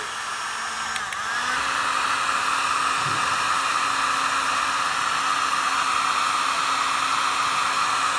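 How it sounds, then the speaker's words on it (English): A heat gun heating a wire connector, switching on with a brief click and then blowing a loud, steady, close rushing hiss with a faint motor whine for the rest of the clip. "And then I use a heat gun."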